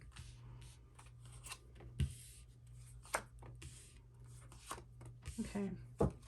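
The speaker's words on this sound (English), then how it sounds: "I'll go ahead and just shuffle." Tarot cards are shuffled by hand in a few quick riffling bursts, soft and close, with quiet pauses and a low steady hum underneath.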